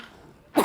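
A single short, sharp cough bursts out at the end after near silence.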